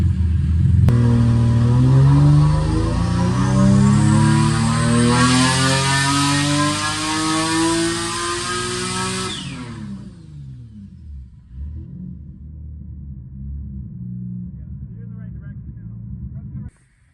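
Nissan 370Z with a single turbo engine running E85, revving loudly up through a long rising sweep while warming up the tires, then settling into a steady rumbling idle, close by.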